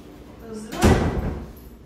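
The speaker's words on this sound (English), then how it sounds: "close the door" A household door is swung shut with a single solid thud and rattle near the middle, loud and close, after a soft rustle of movement; a voice talks faintly just before.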